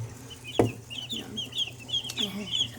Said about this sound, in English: These guineas are really tiny babies.